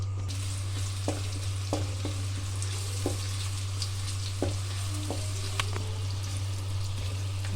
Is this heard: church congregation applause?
no